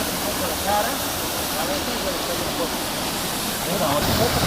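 The third cascade of Cafayate rushes in a broad, steady roar of falling water, loud and close, a constant white-noise wash with no breaks.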